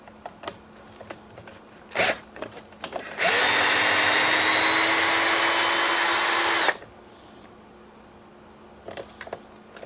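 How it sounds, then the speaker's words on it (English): A power driver removing a screw from the cross brace of an RC car whirs loudly for about three seconds. Small clicks and handling knocks come before and after the burst. "Now we are going to remove the screw from our cross brace."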